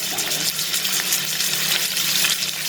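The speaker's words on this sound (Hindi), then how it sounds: "इसमें फ़िश के जो स्लाइसेस हैं उनको हम बारी बारी फ्राई करेंगे हल्का हल्का सा" Fish slices shallow-frying lightly in a pan, a steady close crackling sizzle with fine spattering pops running continuously throughout, no voices.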